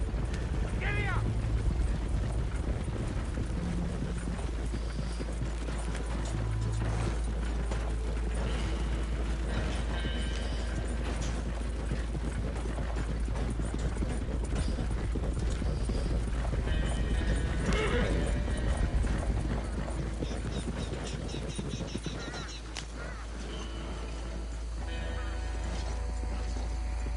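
Horse hooves clip-clopping at a steady gallop in Red Dead Redemption 2, with occasional whinnies, mechanical clinks and game music, while someone talks over the riding.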